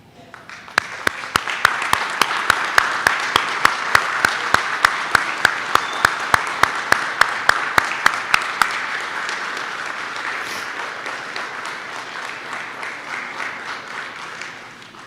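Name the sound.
applause for recruits' families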